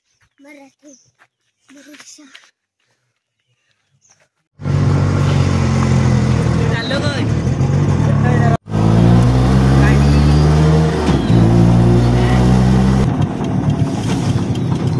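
A loud auto rickshaw engine runs steadily on a village road to a temple, taking over abruptly after a few seconds of quiet, faint sounds, then droning on with a brief break midway.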